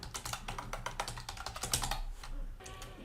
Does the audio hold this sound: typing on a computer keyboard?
yes